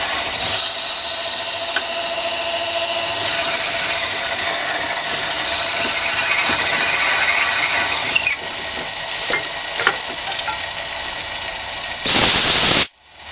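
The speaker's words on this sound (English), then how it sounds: "Forstner bits have a tendency to clog, especially when you drill an end grain with them" A drill whines steadily and loudly as a Forstner bit bores into wood end grain, with faint rattling, ending in a brief sharper burst before stopping.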